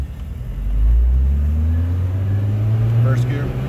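A 1975 Citroen DS23 Pallas with fuel injection and Citromatic transmission pulls away in first gear, its engine a loud, steady low drone that swells and climbs slightly in pitch over a few seconds.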